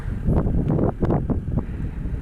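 Cold gusting wind buffets the microphone with low rumbling roar, steady and close, no voices, while fishing at Petrovskaya Kurya in Yakutia.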